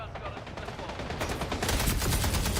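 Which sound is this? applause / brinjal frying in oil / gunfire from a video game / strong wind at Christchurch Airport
gunfire from a video game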